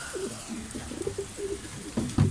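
Pigeons coo in low, throaty, repeated phrases close by on a balcony, with a louder burst of cooing near the end.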